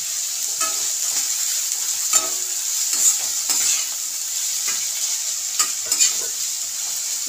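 Carrots being stir-fried in a pan with a little salt, a steady close sizzle with scattered scraping stirs and clinks throughout, no voices.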